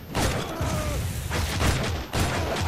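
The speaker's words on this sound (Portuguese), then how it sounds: "Dá um tiro de revólver." Revolver gunshot in the Shank 2 video game, with several sharp bursts over busy game sound effects and noise.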